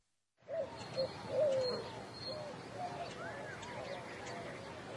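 Young birds call in a series of short chirps and coos, fairly faint and scattered over a steady outdoor background, starting after a brief silence. A voice speaks over part of it.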